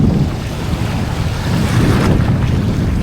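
Steady wind buffets the microphone beside water at a reef on the Swan River in Perth, a continuous rough roar with lapping water underneath and no talking.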